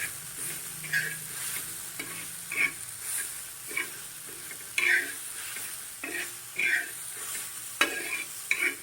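A ground peanut mixture is sautéed and stirred in a pan, with a faint sizzle and intermittent scraping strokes at an irregular rhythm, close and fairly quiet, with no talking.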